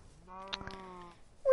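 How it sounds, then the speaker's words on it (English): A sheep in Minecraft lets out a single wavering bleat of about a second, clear and close, followed by the start of a brief tone. "Oh, I see a white sheep and a black sheep."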